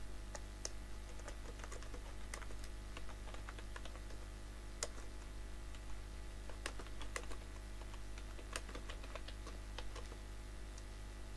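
Typing on a computer keyboard during a computer class, heard as sparse, irregular key clicks at a steady pace over a constant low hum, with no talking.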